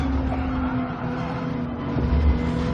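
A Nissan GT-R race car in Gran Turismo 7 at Watkins Glen holds a steady, loud engine drone with a sustained whine, heard close from the car without any talk.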